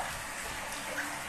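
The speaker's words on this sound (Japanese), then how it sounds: "シャワー出てます" A shower runs in a bath scene from a Japanese comedy sketch, giving a brief, steady hiss of spraying water at moderate level with no voices.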